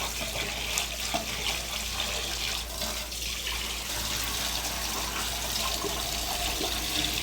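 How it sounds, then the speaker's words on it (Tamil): Tap water runs steadily into a kitchen sink while chicken is washed, a constant close splashing rush with small irregular spatters, no talking. "தோல் எடுத்துட்டு அப்புறமேட்டு தான் வந்து நம்ம சிக்கனை வாஷ் பண்ணிக்கலாம்"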